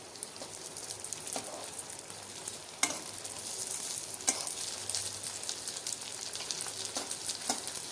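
Beetroot sizzles steadily in hot oil in a pan, with occasional scraping stirs and clinks of a utensil rising above the continuous frying hiss; no voices.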